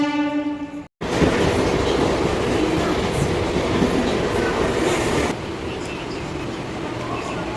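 A Mumbai suburban local train from Malad to Churchgate rolls along the tracks with a loud, steady rushing rumble after a short cut at the start; the noise drops slightly near the end.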